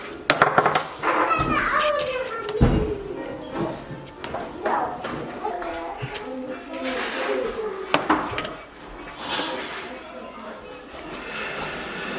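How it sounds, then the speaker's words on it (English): Toddlers stack wooden toy blocks during winter-themed preschool play. Hollow knocks and clatters come at irregular moments among children's chatter and voices. "Stacking the blocks."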